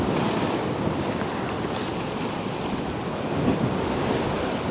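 Waves break along the Paphos seafront in strong wind, a continuous broad roar of surf mixed with gusty wind buffeting the microphone, steady and fairly loud with no voices.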